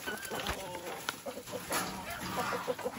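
A farm chicken clucks in short, irregular bursts at close range, with a person speaking over the birds.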